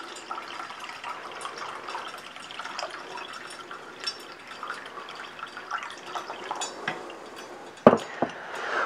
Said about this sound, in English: And we're just going to pour this through as carefully as we can, which is to say, not carefully at all.